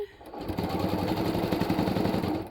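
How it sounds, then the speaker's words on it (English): A sewing machine runs a steady quilt seam, its fast even needle chatter close and continuous for about two seconds after a brief quiet start. "sew it like always with 1/4 inch seam allowance all the way"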